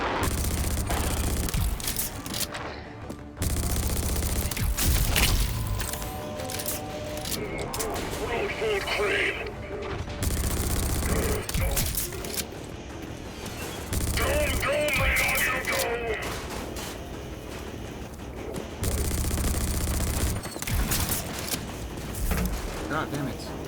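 Gunfire in the Wasteland video game, repeated loud bursts and booms spread through a busy, noisy battle, with someone talking over parts of it.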